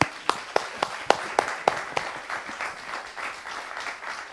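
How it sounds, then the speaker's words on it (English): A small audience at an economics lecture claps, opening with several sharp, distinct hand claps near the microphone before settling into a softer, sparser round of applause that tapers off. "let's give him a warm round of applause."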